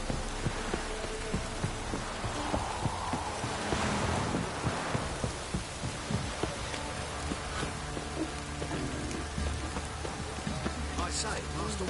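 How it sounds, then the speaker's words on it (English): Heavy downpour in The Witcher 3 video game, a dense, steady hiss of rain drumming on surfaces that holds at an even loudness throughout, with a few faint voices beneath. "This downpour's a bastard,"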